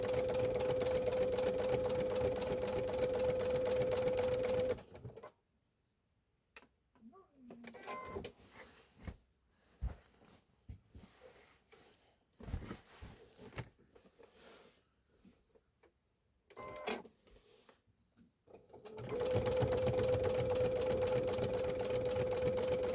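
A sewing machine quilts layers of a fabric wall display, running in a steady, loud mechanical whir at the start and end, with a quieter gap of scattered handling sounds between.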